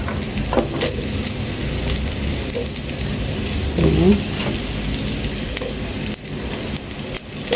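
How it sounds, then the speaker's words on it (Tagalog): Garlic and onion sauté in a hot pan, giving a dense, constant sizzle like rain with a few stirring scrapes. Carrots are then added, and the frying sounds close and loud throughout. "nagisa na yung bawang at sibuyas"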